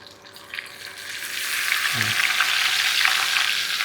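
Garlic frying in a pan of oil with tamarind leaves, coriander-cumin seeds and curry leaves for Gujarati patra shak, a steady close sizzle that grows louder and fuller over a few seconds with a brief stir partway through.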